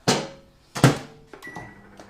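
A microwave door clunks open with two solid thuds, followed by a few faint electronic beeps, close by and without speech.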